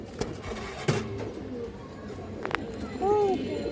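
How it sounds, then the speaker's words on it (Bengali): Large green-necked pigeons in a loft give a couple of soft low coos near the end, among scattered wing flaps and shuffling noises. "বড় সাইজের একটা সবুজ গলা কবুতর আছে জাবরা সবুজ গলা কবুতর"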